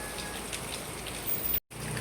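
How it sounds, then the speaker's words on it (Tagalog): Rain falling steadily outside a home in the Philippines, a constant soft patter that briefly drops out near the end before continuing. "At wala pong tigil ang ulan."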